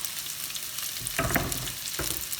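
Onion frying in a pan for pad thai, a steady close sizzle that flares louder around the middle as the onion is stirred, with no voices.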